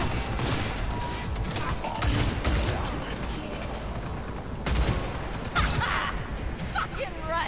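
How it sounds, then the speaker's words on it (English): Dense video-game gunfire from Cyberpunk 2077 rattles in sustained bursts of shots throughout, close and fairly loud, with a few sharper impacts and mechanical effects near the end. "Open fire!"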